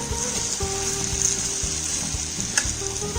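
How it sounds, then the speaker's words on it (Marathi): Sliced potatoes frying in a generous amount of oil for a Spanish omelette, a steady close sizzle throughout with occasional soft stirring bumps in the pan. "हे बटाटे आपण या तेलामध्ये परतणार आहोत"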